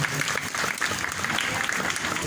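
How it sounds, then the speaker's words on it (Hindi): A hall audience claps loudly and continuously, a dense, steady wall of applause from many hands with faint crowd murmur beneath. "जोरदार ताली बजा दीजिए"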